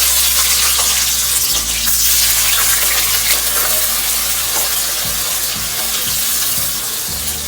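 A large onion frying in oil in a pot for chicken pulao, with a loud, steady sizzle and crackle close by, some clatter near the start and no talking.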